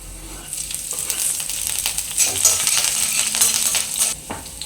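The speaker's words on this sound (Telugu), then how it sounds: "ఇప్పుడు ఇందులోకి ముందుగానే కట్ చేసి పెట్టుకున్న వెల్లుల్లి వేసుకుందాం. ఇందులోకి పచ్చిమిర్చి కూడా వేసుకుందాం." Chopped garlic and green chillies frying in hot oil for pasta, a loud crackling sizzle with scattered sharp pops and light metallic utensil clinks, close up and without speech.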